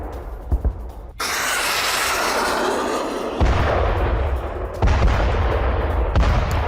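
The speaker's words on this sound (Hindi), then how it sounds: "एक कतार से आपको कई धमाके, ये देखिए आप, कई धमाके होते हुए नजर आएंगे।" Explosions from a Kinzhal hypersonic missile strike in western Ukraine, heard as a few deep booms followed by a long roaring rumble with further blasts, distant and loud, with no talking.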